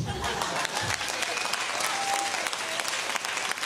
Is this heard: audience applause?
yes